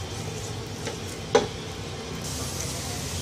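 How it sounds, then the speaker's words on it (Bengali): About a quarter cup of chopped onion frying lightly in a pan for potato curry, a soft steady sizzle with a single brief clink of the stirring utensil midway, close and quiet. "এবার পেঁয়াজটা হালকা একটু ভাজা হওয়া পর্যন্ত এটাকে নাড়তে থাকবো"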